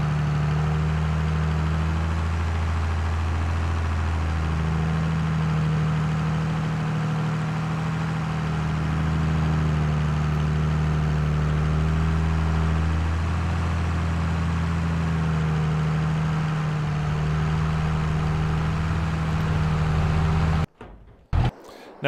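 Steady low idle of a tractor engine in Farming Simulator 22, a continuous near rumble holding even for about twenty seconds before cutting off abruptly near the end.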